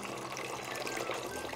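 Water poured steadily over sesame seeds being rinsed, a continuous soft splashing and trickling rush, close and even throughout with no talk.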